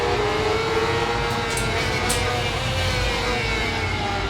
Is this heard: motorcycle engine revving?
yes